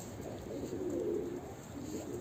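Soft, low coos of pigeons in a coop rise and fall twice over a steady background hiss, fairly quiet and unhurried.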